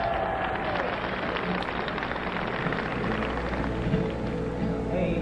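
Steady applause from an audience introducing Bob Dylan in 1963, dense and sustained at an even level throughout, with some crowd noise mixed in.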